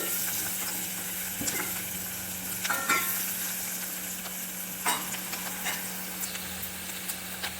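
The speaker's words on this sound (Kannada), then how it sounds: "ಇವಾಗ ಸ್ವಲ್ಪ ನಾನು ಖಾರದ ಪುಡಿನ ಬೆರೆಸ್ಕೊಳ್ತಾ ಇದ್ದೀನಿ" A spoon stirs chili powder into a potato and pea mixture in a hot pan, with a steady soft sizzle and a few scraping strokes at moderate, close range.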